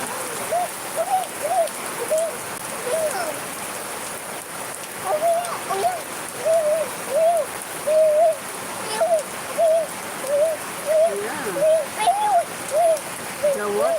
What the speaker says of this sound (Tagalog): Ang lakas ng ulan dito sa amin.